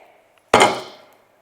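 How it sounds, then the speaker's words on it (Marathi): A single crisp crunch of toasted masala sandwich bread, Mumbai-style, cooked over low to medium flame, breaking once sharply and close, then fading quickly, with no talk. "ब्रेड बघा आवाज येतोय ना एकदम कुरकुरीत झालाय"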